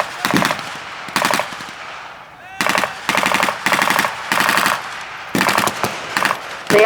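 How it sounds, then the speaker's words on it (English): A World War II battle exchange of machine gun fire: loud, close bursts of rapid automatic fire repeat in a steady rhythm, with short pauses between volleys. "an exchange of fire commences"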